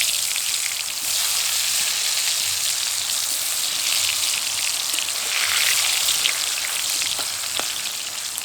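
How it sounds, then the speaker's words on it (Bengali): Potatoes coated in salt and turmeric fry in mustard oil in a wok, producing a loud, steady sizzling hiss with faint occasional pops, close and uninterrupted by speech. "আলুটাকে খুব ভালোভাবে নেড়ে নেড়ে আলুগুলোকে একদম লাল করে ভেজে নেব"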